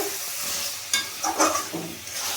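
Masala chicken being stirred with kasuri methi in a pan, with a steady frying sizzle and several close spatula scrapes and clatters, alone without voices.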